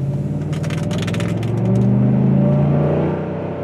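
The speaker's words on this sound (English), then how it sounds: "we're going to come up here and give it a little bit of gas and see what it feels like" A 2012 Ford F-150 SVT Raptor pickup truck engine revs up close, its low rumble rising in pitch as it accelerates, with some rattling clicks early on.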